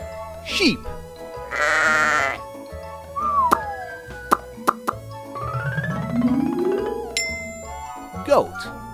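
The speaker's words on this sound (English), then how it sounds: "Sheep." A sheep bleats in short, wavering calls over playful background music, with plops and a chime mixed in.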